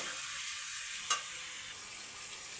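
Marinated lote fish fry quietly in a pan with a soft, even sizzle and one brief clink or spatter partway through; no talking.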